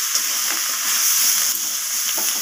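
Cauliflower and egg curry with chopped coriander leaves being stirred in a frying pan, a steady close hiss of sizzling oil throughout with soft scraping stir strokes, no voices.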